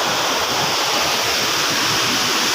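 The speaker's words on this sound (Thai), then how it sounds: "พาเบิ่งน้ำตก น้ำตกอยู่ห่างกับพี่นะพี่น้อง" A steady, loud roar of a waterfall in a natural setting, a dense unbroken rush of falling water heard close up with no voices.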